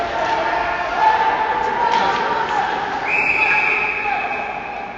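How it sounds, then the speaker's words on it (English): A referee's whistle sounds at a 15U AAA ice hockey game in a rink. It is a steady, moderately loud high tone lasting about two seconds over constant crowd and arena murmur, with commentary voices underneath. "Whistle's blown for some reason."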